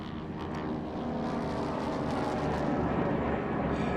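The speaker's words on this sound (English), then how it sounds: "It's actually planes in the air going past." Propeller planes drone past overhead in Velvet Assassin, a thick continuous engine roar that holds steady and loud throughout with a slight swell near the end.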